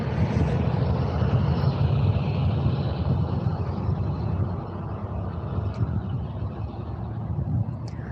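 A Vueling Airbus A320 arriving from Bilbao at Faro airport gives off a loud, steady roar of jet engines that holds through the whole stretch and eases slightly toward the end, with no one talking.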